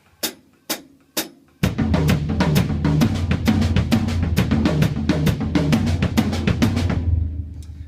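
Three separate drum strikes with gaps between them, then a dense run of quick accented drum hits with full low body filling the rest, played on a kit and fading out at the close.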